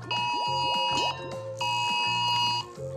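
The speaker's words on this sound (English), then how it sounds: "There you go, alarm's going off." An electronic alarm goes off in an online slot game's bonus feature, rapid repeating beeping bursts like an alarm clock that cycle twice, loud and close, with no talking over it.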